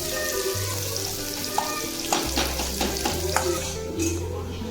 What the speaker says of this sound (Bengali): কয়েকটা পেঁয়াজ, এটা শুধু লাল করে ভেজে বেরেস্তা করবো